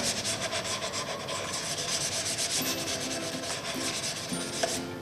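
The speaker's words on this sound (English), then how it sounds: "maybe I should sandpaper a little bit so I can make it a bit nicer" Sandpaper rubs over a handmade wooden ukulele in quick, steady back-and-forth strokes, a close, continuous scratchy hiss.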